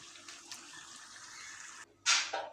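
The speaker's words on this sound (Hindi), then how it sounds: "अब इसमें पानी डालते हैं।" Water gushes steadily into a large cooking pot of meat for nihari, a continuous pouring rush that briefly stops and then resumes with a louder splashing burst.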